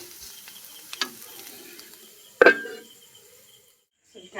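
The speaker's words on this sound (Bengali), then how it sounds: "আমি কিছু আলু কেটে ভাজতে বসিয়ে দিলাম সেই সাথে সকালে যে পটলটা ভেজেছিলাম সেটা আলুর সঙ্গে মিশিয়ে দিয়েছি" Potatoes mixed with pointed gourd fry in a pan with a faint, low sizzle, punctuated by a few sharp utensil clinks and scrapes against the pan, ending in quiet.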